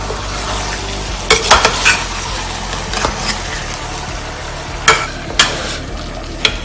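Chicken curry is stirred in a pot over steady sizzling, with a few clear scrapes and clinks of the spoon against the metal standing out at uneven intervals, close up with no talk.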